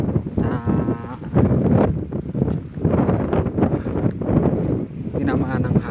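Strong typhoon wind buffeting the microphone in gusty roaring bursts across a damaged cornfield, with someone talking over it.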